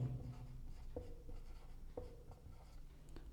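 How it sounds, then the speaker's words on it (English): Pen writing labels onto a hand-drawn liver anatomy diagram: faint, soft scratching strokes with a few light taps, close and quiet, with no talking. "I will write here quadrate and caudate."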